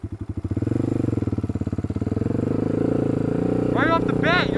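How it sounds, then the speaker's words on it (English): A Honda 300EX sport quad with a loud exhaust thumps at a lumpy idle, then the engine revs up and pulls away, its note rising into a steady drone, with a voice briefly speaking near the end. "Now I'm going to pull away and show you guys some of that power"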